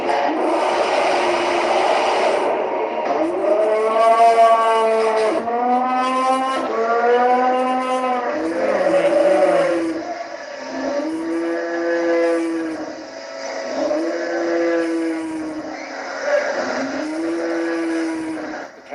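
Terrified cattle bellow repeatedly inside a kosher slaughterhouse, loud drawn-out moos following one another in a steady series, echoing in an enclosed space with some mechanical background noise and no talk.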